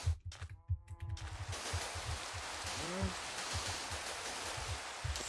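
Rain falls steadily in the Minecraft video game, a continuous hiss that fills the background under scattered thumps and a short tonal effect early on.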